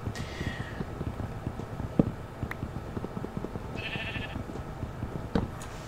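Sheep bleating in Minecraft Java Edition 1.14.4: a couple of brief, thin bleats at a moderate distance over a steady bed of ambient game noise and light clip-clop-like ticks.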